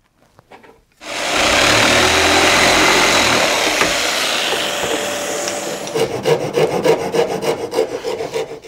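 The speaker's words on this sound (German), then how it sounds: "Nachdem ich es geraspelt habe, auf die richtige Größe und geschliffen habe" A wooden piece for a gauge 0 model railway turntable being rasped and sanded: a loud, continuous abrasive scraping that starts abruptly, then turns into rapid rhythmic back-and-forth strokes near the end, close and alone.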